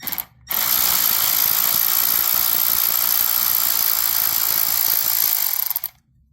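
A power tool whirs steadily for about five seconds, loosening an 8mm hex bolt from the seat shock of a 2020 Can-Am Spyder RT, loud and close, starting and stopping abruptly.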